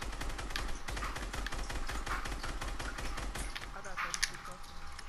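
Rapid automatic gunfire rattles in bursts in a first-person shooter game, fairly faint, with a player's voice talking over it.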